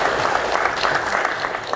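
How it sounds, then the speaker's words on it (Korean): Applause from an audience at a lecture event, a short burst of sustained clapping across the room with no talk over it. "큰 환영과 감사의 박수를 부탁드리겠습니다"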